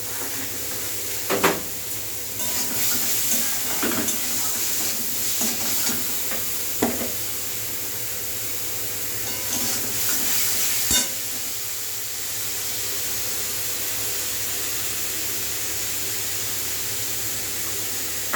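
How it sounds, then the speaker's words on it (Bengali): Spice paste and onion for khichuri fry in oil with a continuous hissing sizzle. Intermittent scrapes and knocks of a spoon stirring break through now and then, close and moderately loud, with no voices. "পেঁয়াজ দিয়ে মশলাটা ভালোভাবে কষিয়ে নেব।"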